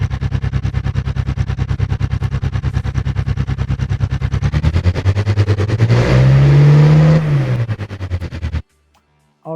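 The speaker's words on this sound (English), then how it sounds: "this is actually another loud engine because yes, it's on 70" A loud car engine revs hard, its rapid pulsing idle climbing into a roaring surge that peaks and drops away before cutting off abruptly into silence.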